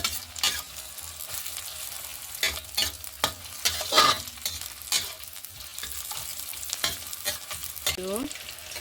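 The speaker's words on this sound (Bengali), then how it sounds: "এখন এর মধ্যে দিয়ে দেব কেটে রাখা পেঁয়াজ কুচি, দিয়ে দেবো 2টো কাঁচা লঙ্কা চেরা" Chopped onion and slit green chillies fry in oil for dal, a soft continuous sizzle broken by repeated scraping stirs and occasional utensil clinks, close and fairly quiet.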